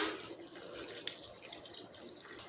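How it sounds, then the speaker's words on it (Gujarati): Hot water pours steadily into a pot of rice, a continuous splashing rush heard up close. "હવે આપણે આ જ પાણી આપણે અહીંયા ભાતમાં નાખીશું"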